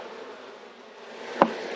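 Honeybees buzzing steadily around an open hive frame holding eggs and orange pollen, a soft close hum with one brief louder buzz as a bee passes near.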